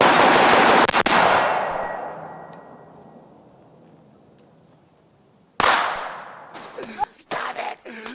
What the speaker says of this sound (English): Don't shoot that little motherfucker no more!